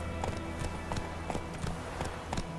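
Horse hooves in The Witcher 3 video game, a steady clip-clop of a trotting horse with evenly spaced, fairly faint hoofbeats over a soft background bed.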